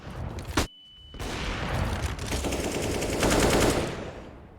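Counter-Strike gunfire on Dust2 from pistols, a Scout rifle and an MP9: a sharp single shot, then sustained rapid automatic bursts rattling on in a loud, dense match exchange.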